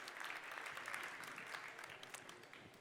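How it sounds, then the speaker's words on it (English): Crowd applause for sponsors at the World Barista Championship final in Seattle, a dense sustained patter of many hands clapping that stays steady and fades slightly at the end. "Big round of applause for all of our qualified sponsors,"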